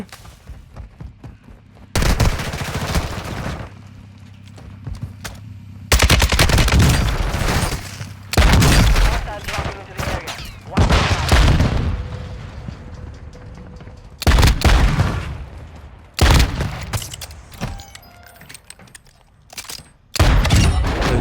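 Loud bursts of gunfire in Warzone 2.0, heavy volleys of rapid shots arriving in separate clusters with short quiet gaps between them, close and forceful.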